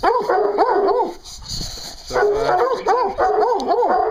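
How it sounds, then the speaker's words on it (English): A mother dog and her puppies bark and yip, close and loud, in repeated rising and falling bursts with a short pause between volleys. "That's a beautiful bark. That's the mom."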